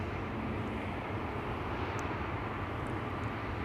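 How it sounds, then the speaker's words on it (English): A KLM Embraer E2 195 airliner lined up on runway 18L, the Aalsmeerbaan, at Amsterdam Schiphol: a steady, moderately distant engine roar with a broad rushing rumble that holds level throughout, with no talking. "Lined up right now is KLM Flight 1365, which will be leaving for Budapest in Hungary. E2 Umbrella 195."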